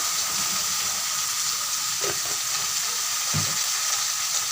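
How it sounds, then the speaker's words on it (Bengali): Masala spice paste seasoned with salt, turmeric and chilli powder sizzles and fries in a pan, a close, steady crackling hiss with a couple of brief stirring scrapes. "দিয়ে মশলাটা ভালো করে কষিয়ে নেব"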